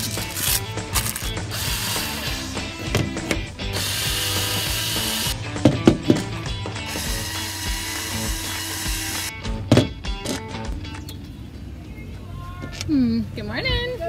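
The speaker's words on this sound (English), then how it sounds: "what we're gonna do is drill a second hole, add a rivet" A power drill whines in sustained bursts, drilling a hole for a rivet, starting and stopping, up close amid clicks and clatter of tools being handled.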